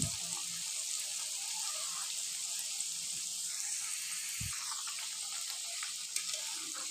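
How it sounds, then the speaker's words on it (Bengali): Egg and flour rolls fry in oil in a wok with a steady, even hiss and sizzle, while a few soft low bumps come from the rolls or utensils; no one speaks. "রোলগুলো এক একটা করে এইভাবে আমি তেলের মধ্যে ছেড়ে দেবো"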